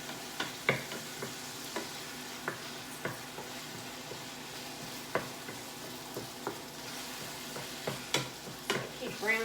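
Ground beef browning in a pan, a soft continuous sizzle broken by frequent sharp scrapes and clicks as the meat is stirred and moved around, close and fairly quiet, without talk.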